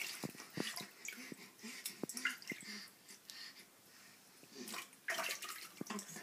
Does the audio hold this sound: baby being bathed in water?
yes